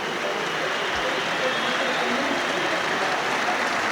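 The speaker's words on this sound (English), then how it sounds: "Carosa getting a second round of applause." Stadium crowd applause at a 1992 Springboks versus Australia rugby test, a broad, continuous roar of clapping that stays steady and distant-sounding throughout.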